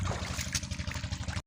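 Irrigation water flowing steadily into wheat field beds, a continuous close gurgling trickle and rush that runs evenly before cutting off abruptly.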